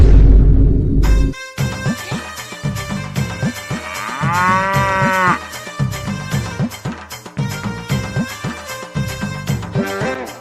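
Cattle moo loudly and close, with several long, deep, drawn-out lows following one another and overlapping through the whole stretch.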